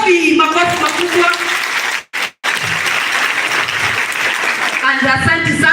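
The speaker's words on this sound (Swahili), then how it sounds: "Makofi makubwa." Big, sustained applause fills a graduation ceremony, loud and continuous with overlapping voices and cheers, broken only by a brief cut near the middle.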